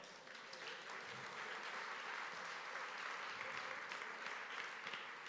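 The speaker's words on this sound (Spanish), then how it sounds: "Dele un aplauso al Señor." A church congregation bursts into sustained applause, a dense, even wash of many hands clapping together for several seconds. It is faint and distant.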